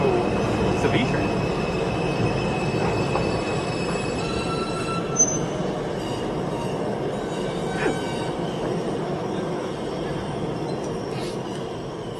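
A V subway train moves along the track with a steady grinding rumble, high metallic wheel squeals rising in thin whines above it, and a few sharp clicks from the rails.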